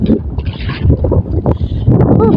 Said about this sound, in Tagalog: Grabe ang paros ng hangin.